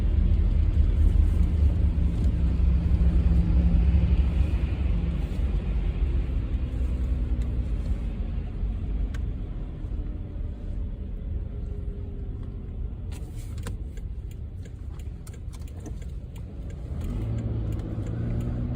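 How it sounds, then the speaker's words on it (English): A state highway truck pulls into a hardware store lot in winter, its engine a steady, loud low rumble that slowly eases, then picks up again near the end. "There's a state highway truck pulling into Ace Hardware."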